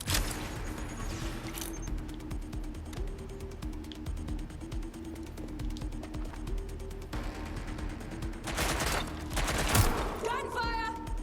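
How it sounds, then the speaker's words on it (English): Rapid, dense gunfire from a firefight in the video game Watch Dogs Legion: a sustained barrage of shots crackling throughout, with louder bursts near the end and mechanical clicks mixed in. "Gunfire!"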